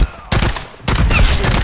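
Heavy gunfire erupts in the video game Call of Duty: Warzone, a brief shot, a pause, then loud, sustained automatic bursts close by.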